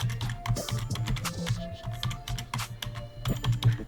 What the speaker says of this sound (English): we're going to type the command PASSWD and hit Enter